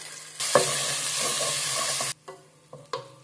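Garlic paste dropped into hot oil with spices in a pan, a loud burst of sizzling frying that cuts off sharply, followed by a few scraping stirs of a spoon in the pan.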